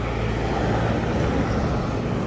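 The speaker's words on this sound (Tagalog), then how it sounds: "Nananubay sa kalsada ang drone." A DJI Mini 3 drone flying over a road in sports mode, a loud steady whirring propeller hum with a constant level across the whole stretch, no speech.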